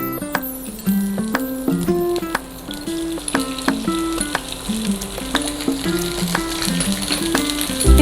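Crushed garlic, ginger and green chilli sautéing in hot oil for a dhaba-style egg masala, a steady sizzle broken by repeated clinks and scrapes of a spoon against the pan, close and fairly loud with no talking.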